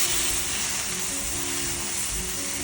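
Plant-based abalone and potato curry sizzles steadily in a hot pan as it is stirred, a continuous close frying hiss with faint low scraping and no voices.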